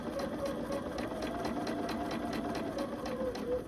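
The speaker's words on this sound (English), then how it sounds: "I always like to sew with my needle down, and then just sew it together." A sewing machine runs continuously, stitching quilt pieces together with the needle down, a fast, even, rapid mechanical chatter heard close up and alone throughout.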